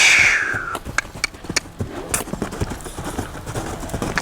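A half-draft horse lopes with a steady run of hoof clip-clops on an arena surface, beats fairly close and evenly spaced, with no one talking over them.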